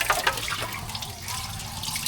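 A kitchen tap runs steadily into a sink before washing up, a continuous close splashing rush with a few brighter drips and clinks near the start.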